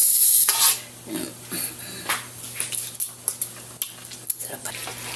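Spaghetti noodles being stirred into sauce in a pot, with scraping and clinking of a utensil against the pot over a low steady hum, close, in irregular bursts after a louder opening rush.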